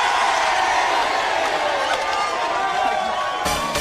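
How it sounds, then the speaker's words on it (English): A big studio audience of about five hundred people cheers and whoops on a live breakfast TV news show, a loud sustained roar that holds steady before breaking off abruptly near the end. "Can we have 500 people cheering the news,"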